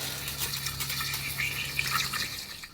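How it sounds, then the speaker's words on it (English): Brake cleaner is sprayed into the gearbox of a vintage JAP outboard motor, making a close, hissing, gushing wash of liquid that surges and sputters before tapering off. "Just going to give it a flush with a bit of brake cleaner."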